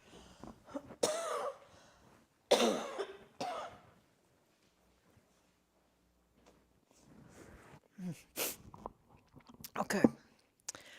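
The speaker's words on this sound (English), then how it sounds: "I'm just having a coughing jag here" A man leading a Buddhist sutta study has a coughing fit: several harsh, close coughs in bursts separated by quiet pauses, with throat clearing between them.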